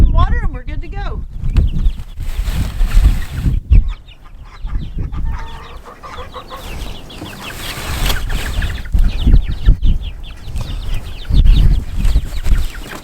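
Chickens clucking inside a mobile chicken tractor out on grass, with occasional louder squawks and bird calls, heard close under steady conversation between people throughout.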